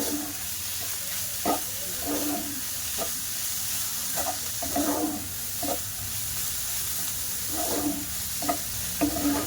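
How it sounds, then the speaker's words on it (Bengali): Spatula stirring and scraping a mung dal filling with chhena in a pan over the stove, repeated scrapes at a steady rhythm over a soft background hiss, close and moderately loud. "পনির ছানা দিয়ে দিলাম, দিয়ে একটু হালকা নাড়াচাড়া করে নেব"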